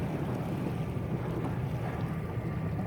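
Steady wind roars and rushes continuously during a Friday night sailboat race in Toronto, a dense broadband blow with low rumble and no talk.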